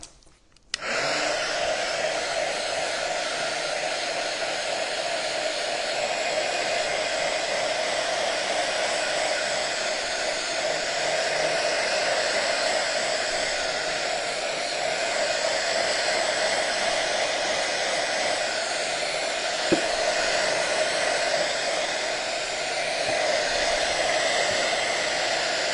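A heat tool dries a Distress Oxide ink craft project with a continuous loud whirring blow that runs close and unbroken for nearly half a minute.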